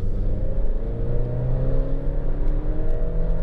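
Gasoline Alfa Romeo Stelvio with an 8-speed automatic, engine steadily accelerating in dynamic mode, a continuous loud drone whose tones rise gradually through the gears, no talking.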